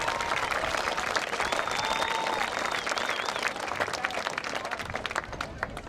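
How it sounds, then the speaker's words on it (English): Steady, dense applause fills a stands crowd at a high school football game honoring the homecoming court young ladies, with scattered whistles and cheers over the continuous clapping. "Let's give all these young ladies another round of applause to recognize their many accomplishments."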